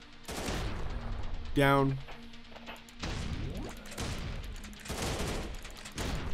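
In the video game Zambies, a shotgun goes off in sharp, loud blasts amid crashes and other game effects, with a voice speaking briefly over the action.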